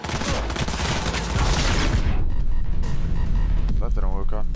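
Dense, loud gunfire from a Cyberpunk 2077 firefight fills the first two seconds as a continuous fusillade, then thins into sporadic shots over rumbling background, with a voice calling out near the end.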